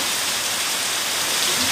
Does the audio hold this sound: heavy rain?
yes